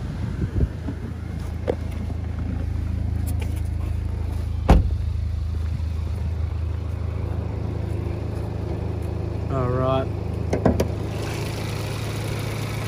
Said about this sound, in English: Just gonna show you the engine bay of the vehicle, just so you can see and hear no funny ticks or noises